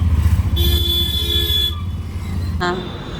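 Riding in an auto rickshaw: the small motor thrums near and steady beneath busy traffic, with sustained honks layered over it and a short sharp horn toot near the end.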